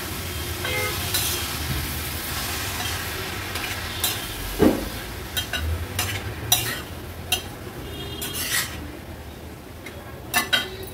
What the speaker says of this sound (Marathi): कांद्यामध्ये छान आपल्याला ही परतून घ्यायची आहे।